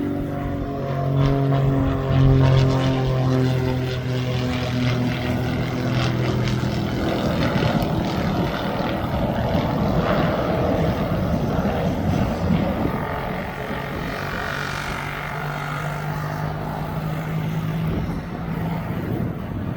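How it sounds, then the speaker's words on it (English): An airplane lands at East Midlands Airport, its engine roar swelling loud and then easing into a steady rumble with a whining tone, heard from nearby and carrying on alone throughout. "Just as this plane lands, the Children's Air Ambulance will taxi on."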